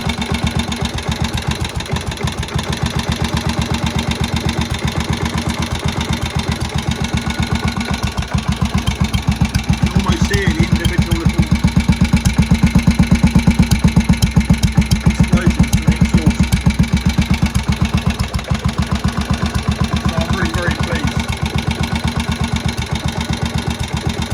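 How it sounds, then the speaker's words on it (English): An old Moto Guzzi single-cylinder motorcycle engine, a shed find, runs steadily with a rapid loud thumping pulse and its external flywheel spinning, close up and continuous, swelling slightly in the middle. "That's the famous flywheel, famous Guzzzi single flywheel. Just spinning around."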